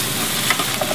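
Lamb shanks brown in a hot pan with a dense, steady sizzle, heard close and loud, broken by a few faint taps and shifts of the meat, with no voices.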